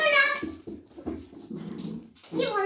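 A dog whines and whimpers in high, wavering cries, loud and close, with a long whine at the start and another at the end, broken by shorter yips and soft rustling in between.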